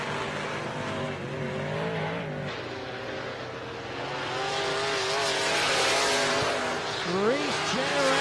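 Modified race cars at RPM Speedway roar down the back straightaway, engines droning and revving with pitch sweeps and rising loudness, while an announcer talks over the racing.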